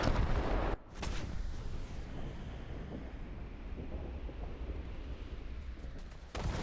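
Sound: enemy gunfire in a tank video game

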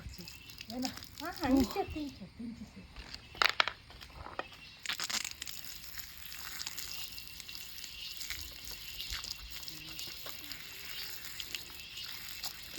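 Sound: water being poured over a dog during its bath

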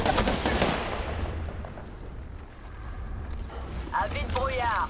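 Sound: enemy gunfire in video game Apex Legends

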